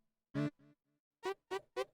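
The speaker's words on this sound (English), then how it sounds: "digital brass, not a favorite" Four short digital brass stabs from the UVI Waverunner sample library, bright and buzzy, separated by brief gaps, the last three in a quick rhythmic run.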